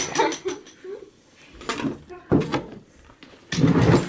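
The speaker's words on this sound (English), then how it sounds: "The drawer won't shut!" A drawer that won't close is shoved, and it gives a couple of sharp knocks and scrapes between stretches of people talking nearby.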